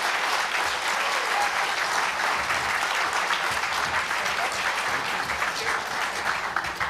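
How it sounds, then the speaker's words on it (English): A roomful of people clapping at a closing session, dense and continuous applause that stays steady from start to finish without any speech. "we'd like to have a round of applause for VCHR"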